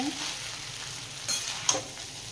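Egg chowmein sizzles and fries in a pan while a spatula stirs it, with a couple of quick scraping clatters, close and moderately quiet, no talking.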